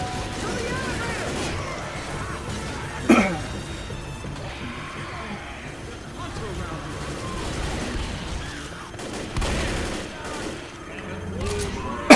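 Gunfire while fighting zombies in the hospital level of Left 4 Dead No Mercy, heard as scattered sharp shots and crashing bursts. A few stand out louder, set against steady game noise and voices talking.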